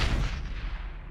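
Gunfire in the Mass Effect video game during a firefight: a single loud, close boom-like blast that rolls off and fades over about a second.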